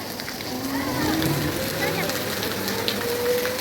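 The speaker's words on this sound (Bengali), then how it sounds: "কত জোর করে বৃষ্টি পড়ছে" Heavy rain falls in a constant loud hiss on surrounding surfaces, while people talk over it throughout.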